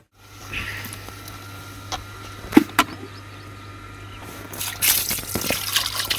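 Water drips and trickles while prawns are being washed by hand, a few sharp close drops over a low background hum, then a brighter splashing burst toward the end.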